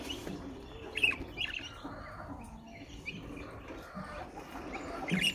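A pet bird gives a few faint, scattered chirps in a quiet room, with occasional soft rustling between calls.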